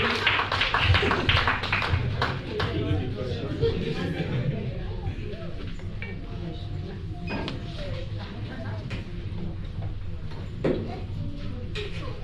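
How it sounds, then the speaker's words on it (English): An audience at a tech innovation and pitching event applauds as session speakers head back to their seats; dense clapping is loudest at the start, then settles into a steady wash with a voice speaking over it. "Clap for them as they go back to their seats."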